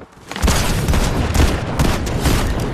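Shotgun blasts in the Fortnite video game, several loud, close bursts of game gunfire packed into a few seconds over dense battle noise.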